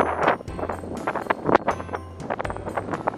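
Strong wind gusting over a rice field during kite flying, buffeting the microphone in rough bursts with rustling and flapping over a low rumble, close and fairly loud for a few seconds.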